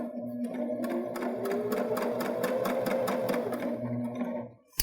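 Baby Lock Jazz II sewing machine running a compact satin stitch, a steady close mechanical whir with rapid even needle clatter that stops near the end.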